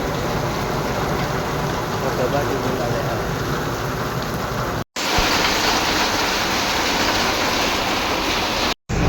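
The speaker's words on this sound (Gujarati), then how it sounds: "વરસાદ અચાનક જ છેકી પડ્યો જોઈ લ્યો તમે" Heavy rain pours in a steady, dense roar throughout, with two brief dropouts; a voice speaks briefly beneath the downpour.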